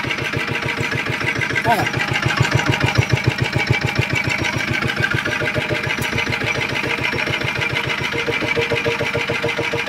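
A Zanma NS50 diesel engine with a worn bushing and smoking exhaust runs steadily with a fast, even mechanical knock, loud and close throughout, while someone talks briefly over it.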